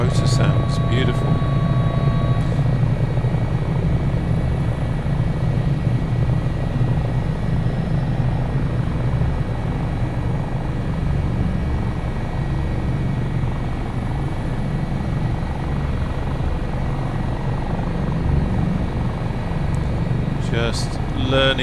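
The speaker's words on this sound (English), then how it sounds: "Oh, the rotor sounds beautiful." HH-65 Dolphin Coast Guard helicopter rotor in MSFS 2024, a steady loud low thrum with engine whine holding throughout, with a voice talking over it.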